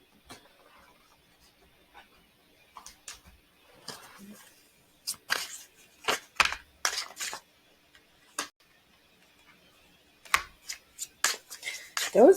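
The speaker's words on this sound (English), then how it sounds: "let's see what I get from shuffling" Tarot cards being shuffled by hand, a run of crisp riffling and slapping bursts that grows louder and denser, with brief pauses between bursts and quiet ticking sounds early on.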